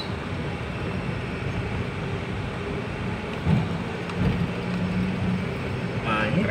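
Steady engine hum from a Daihatsu Sigra with a 1000 cc engine pulling in first gear, a droning cabin noise holding fairly level, with brief voices in the car.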